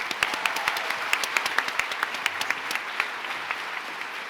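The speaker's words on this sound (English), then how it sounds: "Let's give a big applause." An audience applauds steadily at an awards ceremony, a dense wash of many hands clapping with sharper individual claps standing out, sustained and even for several seconds without speech.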